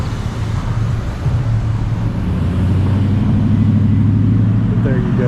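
A car drives past close by on Meeting Street in downtown Morganton, North Carolina. Its engine gives a loud, steady low hum that swells and holds over the street's background traffic.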